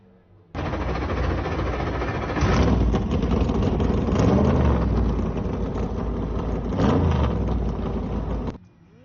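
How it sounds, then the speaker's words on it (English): Several dirt mini stock race car engines fire up at once and rev hard together, a loud, dense roar with surging peaks that holds steady for several seconds before cutting off. "Drivers, start your engines!"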